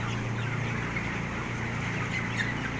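Twenty-day-old chicks cluck and peep steadily while eating, with a farmyard hum running underneath. The flock sounds fairly close and the chatter is continuous, with no talk.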